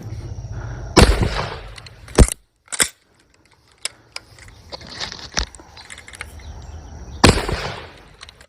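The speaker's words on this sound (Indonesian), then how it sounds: "yang ini tembak-tembakan sniper" A toy sniper gun fires with sharp snapping clicks and pops, a few strong bursts spaced across the stretch among smaller mechanical clicks and rattles, close by and with no talking.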